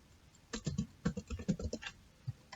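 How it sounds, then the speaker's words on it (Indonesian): Quiet burst of typing on a computer keyboard, a quick uneven run of keystrokes entering a network switch command, close by with no voices. "ketik VTP mode."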